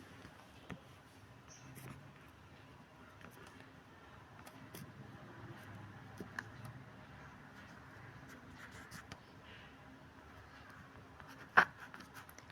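A pen scratches faintly across paper while an English exam answer is written out, soft strokes continuing steadily in a quiet room with one sharper tap near the end.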